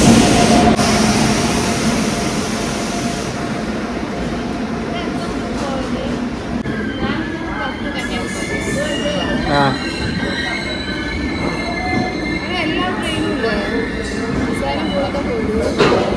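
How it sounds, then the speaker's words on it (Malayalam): A train rolls into a station with loud, sustained metallic wheel squeal and rumbling carriages, voices faintly audible in the background. "ഒരു ട്രെയിൻ വരുന്നുണ്ട്"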